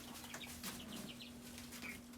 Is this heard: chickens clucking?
yes